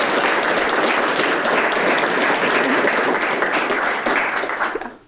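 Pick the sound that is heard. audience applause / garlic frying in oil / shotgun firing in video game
audience applause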